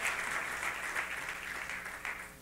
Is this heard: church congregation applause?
yes